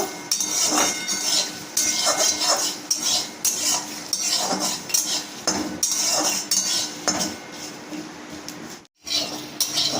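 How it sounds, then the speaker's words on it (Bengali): Black cumin, garlic and dried chilli stirred in hot oil in a wok, the spatula scraping and clinking against the metal in steady, close strokes over a constant sizzle, with one brief pause near the end. "এবার আমি এগুলো দিয়ে একটুখানি তেলে নেব ভালো করে একটু নাড়িয়ে চাড়িয়ে নামিয়ে নেব"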